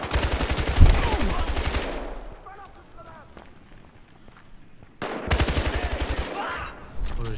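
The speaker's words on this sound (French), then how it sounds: "Pas mal cette mitraillette." Submachine gun fire in Battlefield Hardline crackles in two long rapid bursts separated by a quieter pause with footsteps, the shots close and loud, with someone talking over the gameplay.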